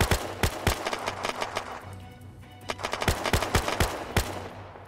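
Rapid gunfire bursts in the battle royale mode of the video game Unturned, sharp loud shots in quick clusters with brief pauses between volleys.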